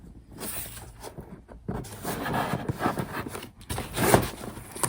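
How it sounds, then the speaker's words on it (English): Close rustling and crisp snipping as craft scissors cut through packaging, in irregular bursts with short pauses between cuts. "Using my craft scissors."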